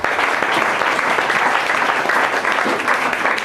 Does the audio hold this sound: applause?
yes